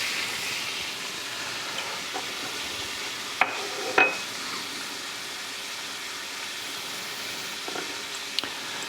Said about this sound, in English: These veggies will cook down here until the onion is translucent